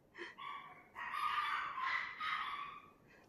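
Dogs bark from a nearby room at a home studio, a few strained, yelping calls in quick succession, moderately loud and unaccompanied by talk.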